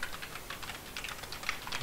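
Quick, continuous clatter of computer keyboard keys being pressed, close and moderately loud, with rapid irregular taps and no voices.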